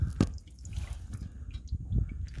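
Engine oil dripping from a car's drain during an oil change, a few irregular close drips falling into a catch container over a quiet background hum.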